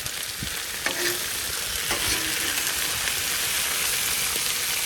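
Peppers and potatoes shallow frying in oil on a Blackstone griddle at high heat, a steady broadband sizzle throughout with a few light scraping clicks, close and even, no voices.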